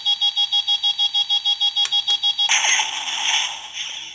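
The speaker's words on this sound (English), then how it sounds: "you get that timer each time. It's kind of like targeting lock-on kind of thing before getting to the actual blast" A R.I.C. robotic interactive canine toy gives a rapid series of evenly spaced electronic beeps as a targeting timer, then a harsher, noisy blast effect follows for the last second and a half, all close and fairly clear.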